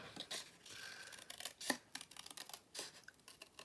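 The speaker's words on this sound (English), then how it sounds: "And then we're going to cut out the butterfly." Scissors snip through paper while cutting out a butterfly shape for a window sheet fold card, a quiet string of close, irregular crisp snips and rustles with one sharper click near the middle.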